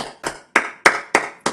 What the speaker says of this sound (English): I can just hear my boyfriend clapping downstairs as well